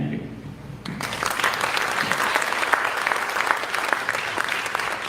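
Audience applause at a Norfolk County district attorney candidates forum in Medway, a sustained burst of many hands clapping that starts abruptly after a moment of quiet and continues steadily.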